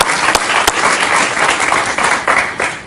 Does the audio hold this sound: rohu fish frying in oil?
no